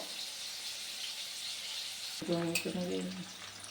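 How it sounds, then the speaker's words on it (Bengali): Paneer cubes fry lightly in a pan of hot oil, giving a steady close sizzle throughout, with a brief louder burst of crackling and a tonal sound joining partway through. "এখন পনিরগুলোকে আমি হালকাভাবে ভাজবো।"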